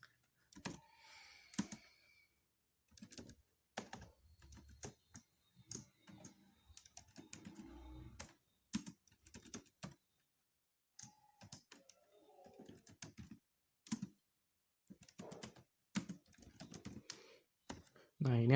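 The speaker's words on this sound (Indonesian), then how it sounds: "Caranya adalah mengetikkan query sebagai berikut." Someone types on a computer keyboard close by in a quiet room, entering a database query. The clicks come in uneven bursts with short pauses between them, soft and light.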